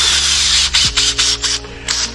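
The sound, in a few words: drill with brush attachment agitating car fabric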